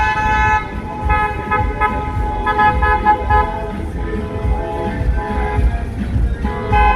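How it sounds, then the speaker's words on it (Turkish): A Rolls-Royce wedding car goes by amid a procession of cars, its engine rumble steady and fairly loud, with horn toots mixed into the busy traffic noise. "Evet Rolls Royce babamız geliyor bakın."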